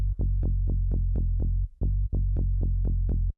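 Tech house bass line from an Ableton Operator patch layering a sine and a saw wave, playing alone as a steady run of short, punchy low notes with brief gaps between phrases.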